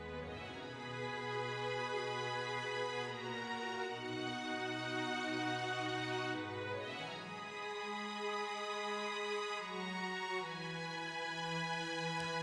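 A sampled full string orchestra patch holds sustained, lush chords that shift slowly in harmony, a continuous smooth swell of bowed strings playing alone.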